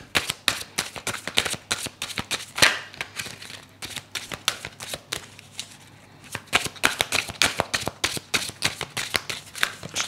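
Tarot oracle cards shuffled and drawn, a rapid run of crisp riffling snaps and flicks up close, pausing briefly before the quick shuffling resumes, with no talking.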